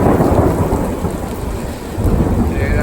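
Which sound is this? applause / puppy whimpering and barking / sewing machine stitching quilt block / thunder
thunder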